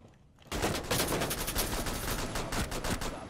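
Sustained automatic gunfire in the tactical shooter Rainbow Six Siege, a rapid dense burst of shots starting abruptly after a quiet half second and continuing loud and fast to the end, no talking over it.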